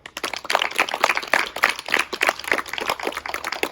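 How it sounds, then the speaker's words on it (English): A small group at a school assembly claps unevenly for grade 6 pupils, a quick scattered patter of hands that stays close and continuous without any voices. "Give them a clap"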